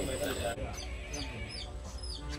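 A young brahminy kite gives thin, shrill, rising cries, several short squeals heard close over steady background noise and voices.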